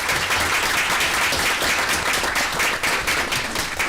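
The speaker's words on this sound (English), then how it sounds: "let's give these gentlemen applause" A crowd at a village board meeting applauds steadily, dense clapping at an even level throughout with no pause.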